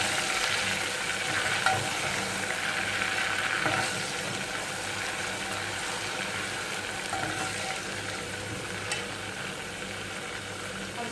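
Onion paste sizzles and crackles steadily in a hot pan while a spoon stirs and scrapes through it, with no voices.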